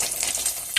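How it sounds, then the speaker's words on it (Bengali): Fish frying in a pan, cooked extra crisp, with a steady close hiss of oil and faint crackle throughout a brief moment, no talking. "সবে মাছ ভাজা স্টার্ট করেছি"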